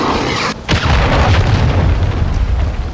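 A friendly cruise missile strikes its target in a combat scene: after a brief dip to near silence, a loud broadband boom erupts and rolls on as a sustained, rumbling roar with heavy low-end weight through the rest of the moment.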